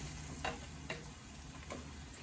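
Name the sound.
stirring shakshuka tomato sauce with a spoon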